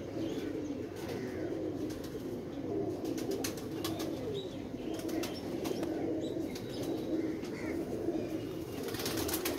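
Pigeons coo in low repeated phrases while wings flap in short bursts, close by in a small enclosure, with sporadic chirps over a steady background hum.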